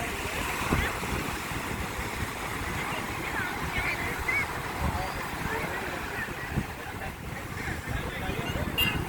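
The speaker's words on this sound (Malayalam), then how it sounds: "അപ്പം ഈ രാത്രിയിലെ കടൽ തിരകൾ കണ്ടത് മതി" Sea waves roll onto a beach at night in a constant, rushing wash of surf with wind buffeting the microphone, steady and fairly loud throughout.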